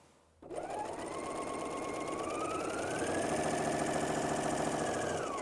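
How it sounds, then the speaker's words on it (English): Bernina L 660 overlock machine sewing soft knit fabric on default settings, starting abruptly and then running as a steady, close, whirring hum that rises slightly in pitch over several seconds. "when I sew a soft knit with default setting"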